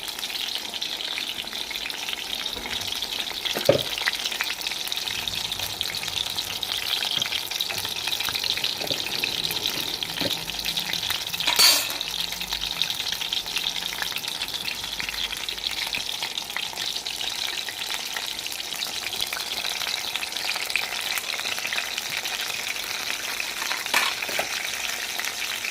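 Eggplant (brinjal) pieces fry in a pan, which was originally non-stick, with a continuous dense sizzle, a couple of brief clicks, and one louder crackling flare partway through.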